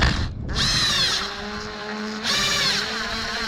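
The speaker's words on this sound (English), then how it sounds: "go trying to drill your screws into your wood too fast" A power drill whirs steadily, driving screws into wood on a folding garden kneeler repair, its motor pitch dropping and rising across two long bursts with a brief pause between, close and loud.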